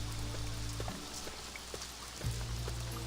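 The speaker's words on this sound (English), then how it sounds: "Good sound effect for the rain," Steady rain from the PS2 game Magna Carta: Tears of Blood, a constant soft hiss of falling drops with faint scattered patters, low and even throughout, with no voices.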